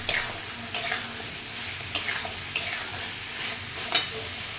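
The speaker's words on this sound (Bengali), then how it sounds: "আমার পেঁপে আলু আর ছোলাটা অনেকটা কষানো হয়ে গেছে, মশলার কাঁচা গন্ধটাও চলে গেছে।" Papaya, potato and chickpea curry fries in a pan with spices, a steady soft sizzle under periodic scraping stirs of a spatula, close and fairly quiet.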